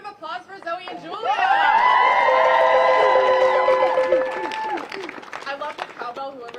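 A crowd at a student walkout rally supporting abortion and transgender rights claps and cheers loudly for two speakers, a swell of applause with whoops and a bell-like ringing tone, fading into scattered crowd chatter.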